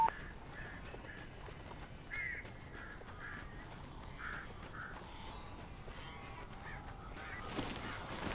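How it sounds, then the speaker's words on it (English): Honking birds in the video game Alan Wake: a series of short, nasal honks repeat irregularly at mid-distance over a steady, noisy ambient bed, with no talking. "These birds are weird."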